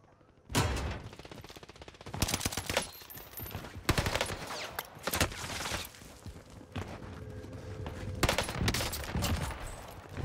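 Gunfire in the Warzone Caldera video game: loud bursts of automatic fire and single shots come in clusters across the clip, close and sharp, with no voices.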